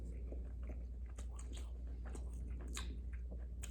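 Crispy, juicy bacon being chewed up close as part of a big homemade breakfast: steady crunchy bites and wet mastication sounds repeating throughout, no talking.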